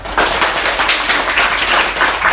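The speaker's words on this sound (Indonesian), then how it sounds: "Iya, tepuk tangan." Hands clapping in a classroom, a dense, steady patter of many claps held at an even, loud level for a couple of seconds with no talk over it.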